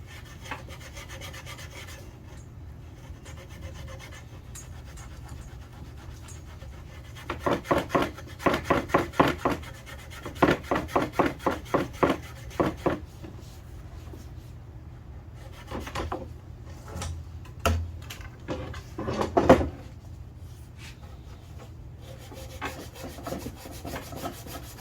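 A Scotch-Brite pad rubs along the grain of oak cabinet wood in bursts of quick back-and-forth rasping strokes, close and fairly loud, separated by quieter pauses.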